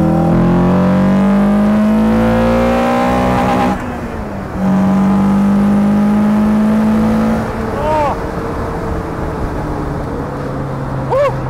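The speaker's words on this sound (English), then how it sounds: "At full throttle, you can't hear a thing because of the engine" An Ariel Atom's engine pulls hard at full throttle, revving up through rising pitches with brief dips at shifts, loud and close, with wind rush around the open car.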